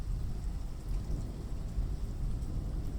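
Steady rain on a rainy night, a dense low rumbling wash with faint distant thunder-like swells, continuous and moderately loud with no voices.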